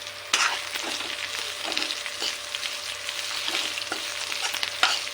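Onion and raw banana pieces sizzle and fry in a pan, with a utensil stirring through them in repeated scraping strokes; steady close-up crackle and sizzle throughout with no talking.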